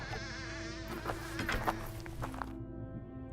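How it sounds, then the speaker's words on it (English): A mosquito buzzes in an abandoned asylum, a thin, steady drone close to the ear, with a few faint knocks and rustles behind it. "This mosquito."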